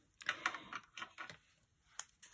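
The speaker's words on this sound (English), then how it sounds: "I'm just using a Sharpie pen to write the color on there" A Sharpie marker writes a colour name on a label, producing a few faint, quick squeaky scratches in short separate strokes, close and quiet.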